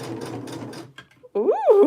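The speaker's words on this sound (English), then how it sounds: "We're on straight stitch, 3 millimeter stitch length. And let's do some sewing." A vintage Singer 6221c sewing machine runs a straight stitch with a close, steady mechanical whir, pausing briefly before a voice speaks over the quiet hum.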